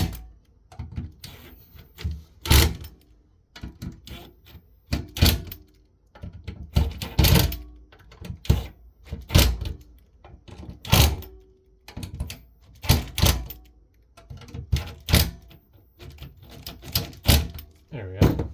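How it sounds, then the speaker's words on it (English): A small power drill driving screws into a plastic AC Infinity rack fan housing, heard as a series of loud, short whirring bursts separated by pauses, close to the listener and mostly alone. "This drill has enough power, even though small as it is, to rip those threads right through the plastic if I wanted to."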